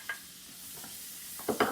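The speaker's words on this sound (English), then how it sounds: "I'm going to go ahead and dump these Brussels sprouts in there" Brussels sprouts hit a hot pan with an ongoing sizzle, then a sudden louder crackling burst near the end as they land, with no talking.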